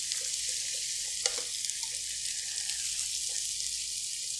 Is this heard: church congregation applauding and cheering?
no